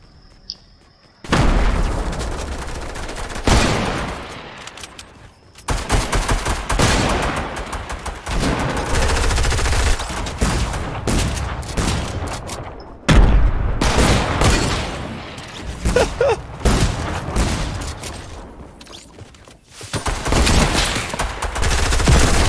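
Dense video-game shooter gunfire with rapid bursts and grenade blasts, loud and continuous in several long stretches broken by brief pauses.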